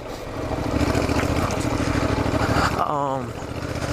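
Honda NC700XD DCT motorcycle riding off-road around Tray Mountain near Helen, Georgia, its engine a steady loud drone that eases off near the end, with a brief rising-and-falling tonal sweep.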